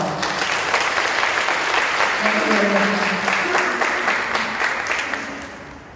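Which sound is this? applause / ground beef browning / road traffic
applause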